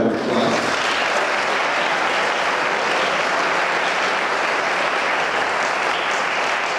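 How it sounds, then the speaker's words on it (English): An audience applauds a school jazz combo, a steady dense wash of clapping that carries on evenly from start to finish. "Let's give them another round of applause."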